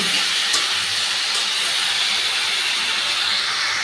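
Vegetables frying with ginger paste for Bengali shukto give a loud, continuous hissing sizzle, steady and close throughout, with no voices.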